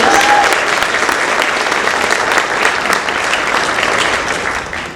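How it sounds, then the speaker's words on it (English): A large audience claps in sustained, dense applause at a public health event, steady and loud before fading away at the end. "Can you give her an applause"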